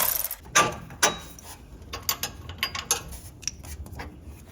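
Jeep Wrangler JL track bar bolt being removed from the axle with a 21mm socket, a series of sharp metallic clicks and ratcheting taps, close and fairly quiet, with no talking.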